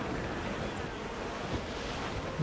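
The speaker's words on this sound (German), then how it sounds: "Der Wind ist eine steife Brise, Captain." Wind and ocean waves on open sea in Assassin's Creed 4 Black Flag, a steady, full rush of surf and gusting wind that holds at an even level throughout without talk.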